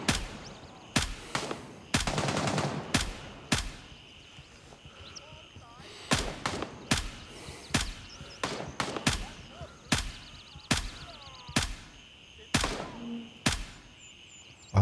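Repeated sharp gunshots in the video game Gray Zone Warfare crack out in uneven bursts, some single and some clustered, loud and close, with a faint background hum between them.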